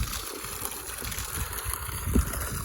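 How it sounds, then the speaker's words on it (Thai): Water pours steadily from a full pipe fed by a small solar-powered 750 W pump lifting mountain water, a continuous close rushing and gurgling with no talk. "น้ำไหลดีมากครับ"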